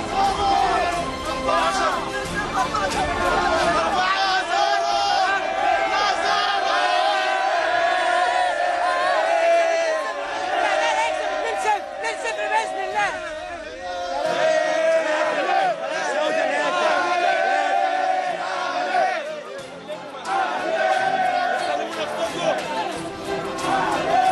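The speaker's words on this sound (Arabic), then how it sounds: "هتافات الجماهير والناس بتغني ازاي" Al Ahly football fans chant and sing outside Borg El Arab stadium before a match, a dense, continuous crowd roar of massed voices and whoops that swells and dips throughout.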